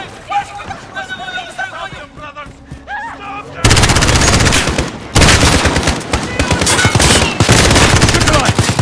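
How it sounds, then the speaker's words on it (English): Call of Duty: Modern Warfare campaign gunfire: after a quieter stretch of tonal game sounds, heavy automatic weapons erupt into loud, sustained bursts of rapid shots that continue to the end. "The gunshots, of course."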